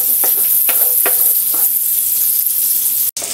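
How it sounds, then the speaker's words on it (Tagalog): Garlic and onion sizzle loudly in a hot pan with dried fish bits, a steady broadband hiss broken by a few sharp crackles and stirring scrapes, then a brief drop-out near the end. "Bawang sibuyas. Bayaan muna nating matoast ng kaunti."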